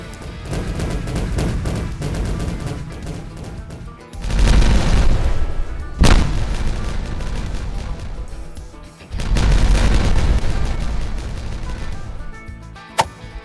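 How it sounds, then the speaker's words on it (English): Explosions in the beaver colony-building video game Timberborn, two long roaring blasts with rumbling low end and a sharp crack between them, loud and sustained over a continuous game soundscape, ending with a brief distant pop. "it's been a while since we had our last explosion"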